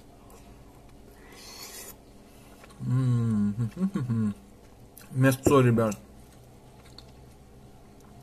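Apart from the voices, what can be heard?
biting and chewing food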